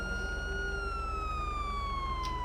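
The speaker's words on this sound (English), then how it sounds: "Siren works" A modded park ranger vehicle siren from GTA V wails steadily and loudly, a single sustained tone gliding slowly downward over a low engine rumble, with no talk.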